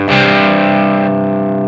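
A sustained, heavily distorted electric guitar chord rings out loud through a high-gain amp, thick and buzzing, holding steady before thinning slightly near the end.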